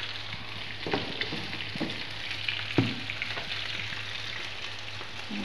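Turmeric and coriander powder frying in a pan as the base for a fish curry: a continuous close sizzle with a few soft stirring knocks and scrapes, no talking.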